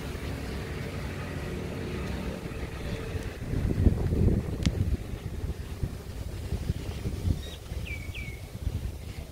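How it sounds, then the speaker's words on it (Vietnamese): Wind buffets a microphone outdoors at a newly built recreation site in Can Tho, a steady low rumbling roar that swells in gusts, with a few faint bird chirps near the end and no talk. "Khá là gió các bạn"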